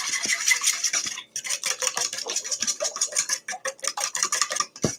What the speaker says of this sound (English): I don't have a whisk, so I got to use a fork.